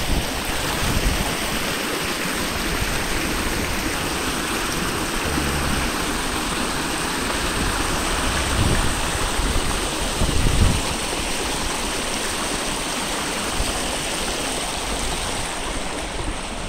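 A clear mountain stream flows down a valley below Geumdaebong peak in Taebaek, a steady close rushing wash of water with light wind buffeting on the microphone and no talking.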